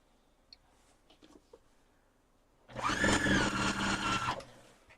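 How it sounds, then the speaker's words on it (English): A sewing machine stitches quilt pieces for a Christmas quilt in one sustained burst of steady, fast mechanical whirring, loud and close, after a few quiet knocks and handling sounds. "Gotta sew these on the ends."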